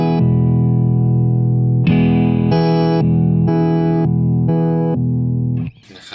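An electric guitar runs through an EHX Intelligent Harmony Machine pedal, giving a sequence of sustained, harmonized and distorted chords that change in steady steps, loud and close, and end abruptly with a short noise.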